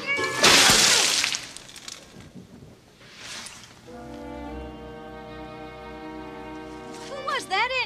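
A man imitates a cat, giving a drawn-out meowing, caterwauling call that follows a loud crash and a burst of noise, with a voice and other sounds around it.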